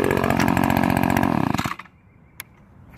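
An Echo PB 2520 handheld gas leaf blower roars loudly at full throttle, then winds down and cuts off, leaving near silence and one brief click.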